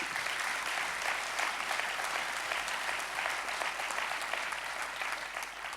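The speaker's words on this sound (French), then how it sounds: "merci d'applaudir pour tous ceux quand même qui le font exister" Sustained applause from an opening-ceremony crowd, a steady wash of many hands clapping that continues without pause.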